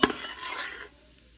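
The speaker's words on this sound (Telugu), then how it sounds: "ఆయిల్ వేడైన తర్వాత మసాలా చికెన్ ఇందులో జీడిపప్పు వేసుకొని ఒక 1 మినిట్ ఫ్రై చేసుకోవాలి." Whole spices and cashews frying in hot oil: a sharp metallic clink opens a brief, close burst of crackling sizzle that fades within about a second.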